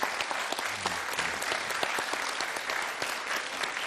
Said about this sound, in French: je vous demande d'applaudir encore une fois chaleureusement nos invités